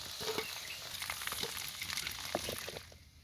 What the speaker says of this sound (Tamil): கருவாடு பொறிஞ்சிட்டு இறக்குவோம் இனி